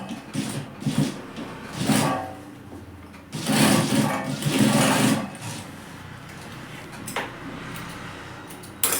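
A sewing machine stitches a capri waistband in short, close bursts, whirring on and off several times with brief pauses between runs.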